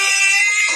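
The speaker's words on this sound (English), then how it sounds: "sorry about that, my alarm" A personal alarm blares in a continuous, loud, bright electronic tone that fills the whole short moment, steady and close with no pauses.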